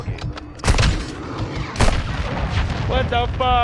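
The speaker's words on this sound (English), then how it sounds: "Friendly cruise missile" A friendly cruise missile strike in Modern Warfare 2 lands as a heavy, rumbling blast with sustained roar and debris, mixed with gunfire, in-game radio chatter and a player talking over it.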